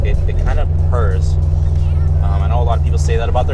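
A car with an upgraded aftermarket exhaust drones with a steady low purr while cruising in fourth gear, the engine note constant and prominent beneath someone talking over it.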